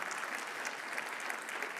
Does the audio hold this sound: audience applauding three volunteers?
yes